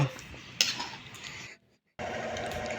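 Milkfish paksiw is stirred in a pot, with faint metal scraping and clinking of a utensil against the pot, a brief sharp clink, a short near-silent pause, then steady low bubbling and scraping.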